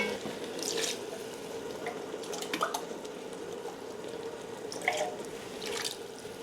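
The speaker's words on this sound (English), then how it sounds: "I'm going to put a little bit of water, swill these cans out," Water runs from a kitchen tap into emptied tomato cans and swills around inside them while a tomato sauce for aubergine parmigiana is being prepared, a close, continuous trickle with a few clinks and splashes.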